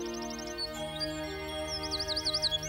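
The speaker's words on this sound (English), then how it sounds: "That's the song of the wren, known in some circles as the king of the fields." A wren's song, a rapid series of high, thin chirps and trills that builds toward the end, fairly clear over a steady musical background.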